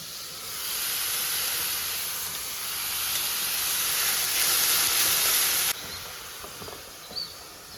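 Beans and vegetables sautéing in a pan give a loud, steady hissing sizzle that runs for several seconds, then drops abruptly to a quieter bubbling, with a faint clink near the end.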